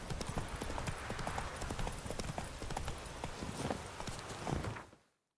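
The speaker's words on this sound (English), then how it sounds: "Ih, cavalo." Horse hooves clip-clopping steadily in The Witcher 3 video game, a continuous brisk trot of close, even hoofbeats that fades out near the end, without any voice over it.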